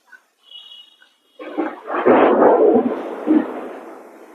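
Rolling thunder rumbles outdoors, building after a brief quiet start and continuing as a deep, sustained roar for about three seconds.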